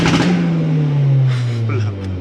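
A car engine is held at about 5,000 rpm for launch control with boost-by-gear on wet roads, giving a loud, steady close-up drone whose pitch sags slightly, with a voice speaking over it.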